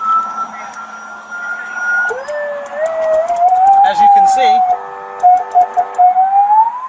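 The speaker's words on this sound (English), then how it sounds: "it has a functioning siren to go with the lights, alternating sirens." A police siren switches between wailing and rapid alternating tones, loud and close, with someone talking over the start.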